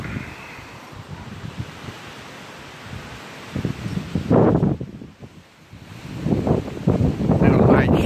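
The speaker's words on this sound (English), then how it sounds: "Wind picking up." Gusting wind rises and falls outdoors as storm clouds roll in over Trinidad, Colorado, buffeting the microphone in swelling broadband bursts that grow louder toward the end.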